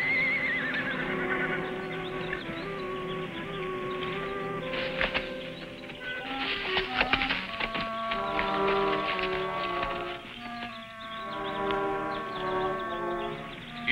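A mustang horse whinnies in long, shaky calls, some near and some farther off, over a muffled outdoor background.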